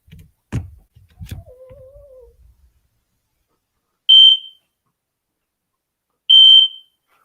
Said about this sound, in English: I have an errant smoke detector that likes to do weird things at different times.